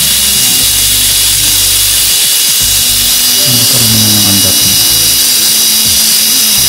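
Freshly greased Mini 4WD gears spin with a loud, continuous high-pitched mechanical whine and buzzing, close up and steady, with lower motor hum shifting underneath.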